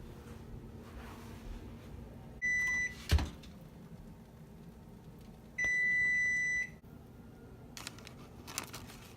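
A microwave oven beeps in two short bursts while heating a frozen cheese pizza, separated by quiet kitchen noise, a clack and a few faint taps; close and clear.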